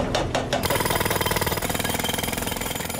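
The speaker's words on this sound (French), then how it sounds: "Quatre énormes marteaux-piqueurs se mettent alors à casser une partie des taxiways, grandes comme deux cours de tennis." Four huge jackhammers breaking up airport taxiway pavement: a loud, continuous rapid pounding rattle, with a few heavier impacts at the start, close and steady throughout.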